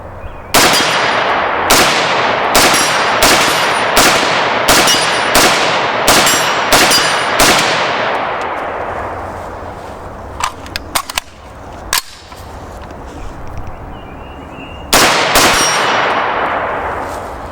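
AR-15 rifle shots fired in a quick string of about ten sharp, evenly spaced cracks with long decaying ringing tails, followed by a pause with small metallic magazine-change clicks and clatter, then another shot.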